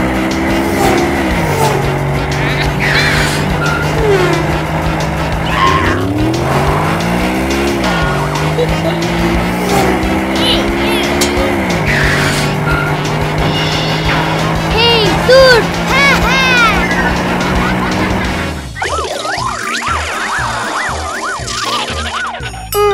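Toy or cartoon trucks race with revving engines that rise and fall in pitch, accompanied by repeated tire squeals and skids, with a continuous busy layer of sound and voices mixed in throughout.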